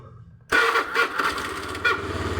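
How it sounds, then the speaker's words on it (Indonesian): Honda Beat fuel-injected motorcycle engine starting: a short quiet lead-in, then the engine catches abruptly and settles into a loud, close idle with small surges. "selanjutnya kita hidupkan motor dulu ya"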